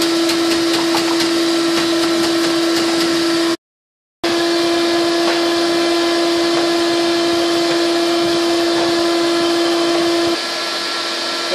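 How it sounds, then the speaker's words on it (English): A Shop Vac and a floor fan run together while defrosting a freezer, a loud, steady drone with a constant hum tone, broken once by a brief total cutout before resuming unchanged. "1 hour with the Shop Vac and a floor fan."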